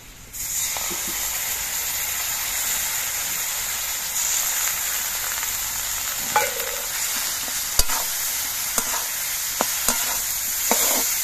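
Ground turmeric, green chilli and cumin paste sizzles loudly with potatoes in a pan, a steady bright hiss of frying broken by a few clicks and scrapes of stirring, with no voices.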